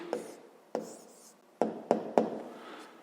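Pen or pencil writing down a math answer, several sharp taps and short scratching strokes spaced irregularly, close and fairly loud against a quiet background.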